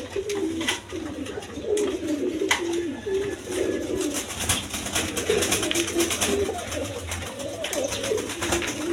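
Pigeons cooing steadily at a pigeon sale, with several overlapping low, throaty coos repeating throughout against a busy background hum.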